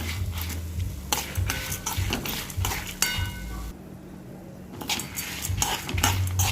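Dry red chillies roast in a pan while a spoon scrapes and stirs them, producing repeated metallic scraping strokes over a low sizzle, with a short quieter pause midway.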